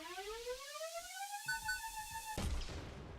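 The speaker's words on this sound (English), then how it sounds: "when I also reach the max charge moment, you will hear a beep beep sound" Charge feedback tone in an Unreal Engine 5 game prototype: a rising, harmonic-rich electronic tone climbs and holds steady, then cuts off abruptly into a brief noisy burst, heard alone and fairly faint.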